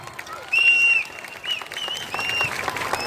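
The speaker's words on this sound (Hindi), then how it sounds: "जोरदार तालियां" A theatre audience applauds after a stage performance, scattered clapping building and continuing under a few high whistles and cheers, moderately loud and somewhat distant.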